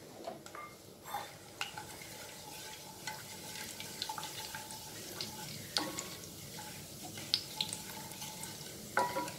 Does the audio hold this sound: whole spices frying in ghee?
yes